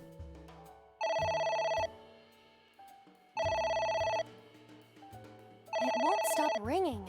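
A telephone ringing in the video game AI: The Somnium Files, three loud electronic ring bursts with gaps between them, with a person talking over the pauses.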